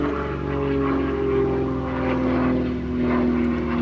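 An unlimited-class aerobatic airplane fitted with a Hartzell propeller drones steadily overhead, a continuous buzzing engine and propeller tone with slight rises and falls in loudness, fairly close and loud, with no talk.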